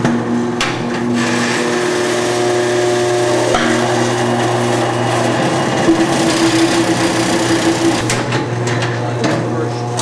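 An old electric washing machine runs with a steady mechanical hum and rhythmic clanking, punctuated by a few sharp knocks, continuous throughout.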